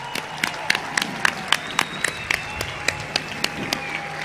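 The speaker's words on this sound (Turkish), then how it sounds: "bir gürültü de alabilir miyiz İzmir?" An outdoor crowd at the 9 September İzmir liberation centenary celebration claps in a steady, rhythmic unison beat of sharp, evenly spaced claps, with a thin sustained tone drifting in the background.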